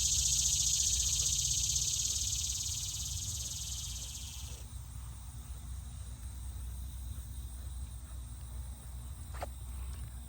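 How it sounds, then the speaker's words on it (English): A loud, steady high-pitched drone of cicadas in a small tulip poplar tree fills the first few seconds, then drops away, leaving a quieter outdoor hum with fainter insect buzzing. "We've got a little tulip poplar tree right here behind me, and it's got cicadas in it."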